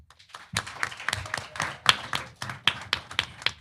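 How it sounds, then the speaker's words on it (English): Sparse clapping from a small audience at an abortion-rights event, individual hand claps audible in an uneven rhythm, fairly close and moderately loud. "So give yourselves a round of applause."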